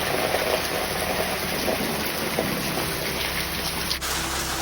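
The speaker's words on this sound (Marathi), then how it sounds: "त्यामुळे पावसाचा आवाज आमका येतात." Steady rain falls around an open, exposed house, a dense continuous hiss that holds evenly throughout with no voices.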